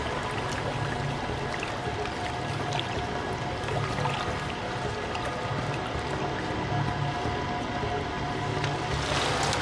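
A magician is lowered into a water-filled escape tank, and water sloshes, splashes and pours in a dense continuous rush, loud and close, with no talking.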